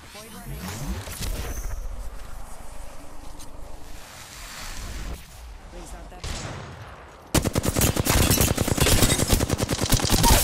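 Apex Legends gunfire: scattered shots early, then a loud, rapid stream of automatic hip-fire bursts in the final seconds, with game ambience and a player's voice in between.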